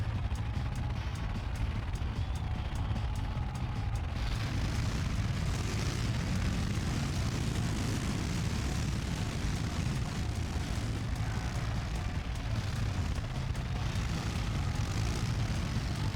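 Jet ski engines in the Wii racing game Kawasaki: Jet Ski, Quad Bikes and Snow Mobiles produce a constant, loud droning roar that holds steady with no break throughout.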